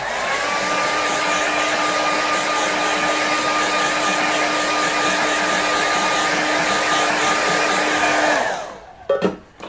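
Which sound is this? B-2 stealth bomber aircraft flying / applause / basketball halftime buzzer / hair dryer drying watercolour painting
hair dryer drying watercolour painting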